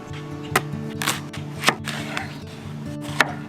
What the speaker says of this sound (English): We're gonna slice these and we're gonna grill them